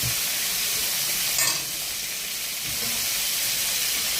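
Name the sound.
pointed gourd frying in oil with turmeric and salt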